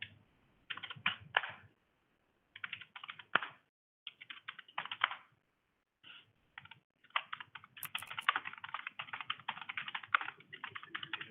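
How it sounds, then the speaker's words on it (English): Close, quiet keyboard typing in irregular bursts of rapid key clicks separated by brief pauses, with no voices. "I can hear you typing."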